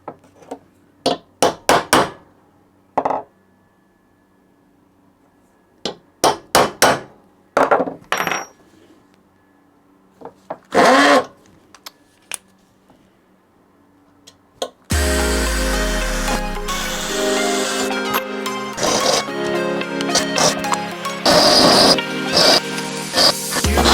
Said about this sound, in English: drill a smaller hole here, and then just enlarge it